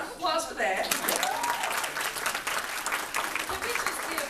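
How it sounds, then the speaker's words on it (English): An audience at a K-pop fan panel for fans over 30 breaks into lively applause and cheering that swells quickly and holds steady, with a voice speaking over it near the start. "See, round of applause for that."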